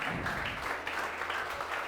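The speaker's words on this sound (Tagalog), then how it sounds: "Yung the best na palakpak para kay Lord." A church congregation applauds during a worship service, a thick, sustained roar of many clapping hands filling the room.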